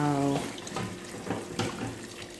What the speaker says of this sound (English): we're going to add our coconut milk now